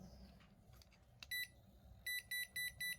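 A Toshiba rice cooker converted to 220V shows an error with a single electronic beep followed by four quick, evenly spaced high beeps. They sound close and clear over faint room noise.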